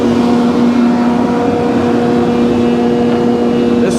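An electric planer taking a pass across a spalted sycamore board, its motor holding a loud, steady hum with a strong tonal whine throughout, close up and uninterrupted.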